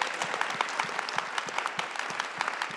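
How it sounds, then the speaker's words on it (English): An audience at a university event gives a big round of applause for two speakers, dense continuous clapping with sharp individual claps standing out, steady and fairly loud throughout. "a big round of applause, big round of applause for Shutez Scott and Issa"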